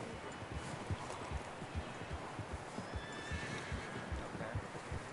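Horses in the video game Red Dead Redemption 2 plod along with steady, soft hoof thuds and a neigh, under a constant rushing outdoor ambience.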